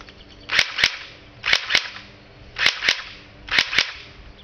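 A Crosman R71 pellet gun fires on semi-auto at a target, four pairs of sharp snapping shots in an even rhythm, close and crisp with no talk.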